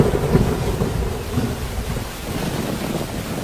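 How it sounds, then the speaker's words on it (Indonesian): Heavy rain pours on Mount Gede, a loud, dense, continuous wash of noise with rumbling and gusty wind buffeting the microphone. "Lah, kok hujan?"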